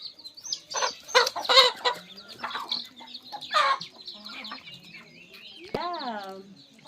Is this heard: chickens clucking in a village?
yes